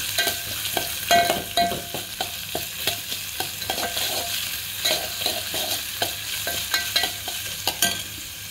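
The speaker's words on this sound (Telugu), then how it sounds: "అల్లం వెల్లుల్లి పేస్ట్ వేసి బాగా కలుపుకోవాలన్నమాట" Ginger garlic paste frying in a pan for a ridge gourd and dried prawn curry, with a bright continuous sizzle and regular scraping stir strokes, close and loud with no talking.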